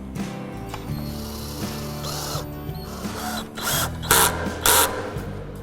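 A Phillips screwdriver or power drill drives screws into a park bench board, giving close, repeated ratcheting clicks and mechanical whirs followed by a few louder bursts.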